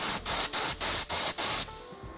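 Compressed air blasts into the head stud holes of a Porsche 3.2 engine, five short loud hissing bursts in a regular rhythm followed by a longer final burst that trails off.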